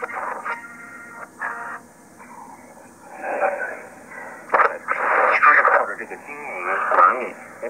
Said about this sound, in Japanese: AM なんか受信してもね、いい音ですよね。